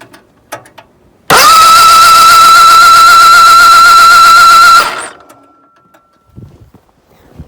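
A Bolens H16XL garden tractor engine cranks over with the flywheel turning, a loud, steady whirring drone lasting about three and a half seconds that starts abruptly and then winds down into quiet.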